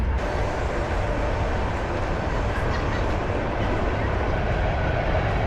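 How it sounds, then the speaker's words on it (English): A train rumbles past steadily with continuous broadband roar and faint clatter, loud and close throughout. "And there goes the train."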